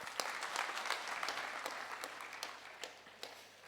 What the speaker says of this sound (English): a big round of applause for Pepper